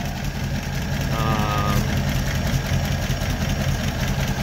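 Engine of a 1936 Buick Model 60 Century idling close by with a steady, even rumble and no exhaust leaks on the manifolds, holding a constant loud drone throughout.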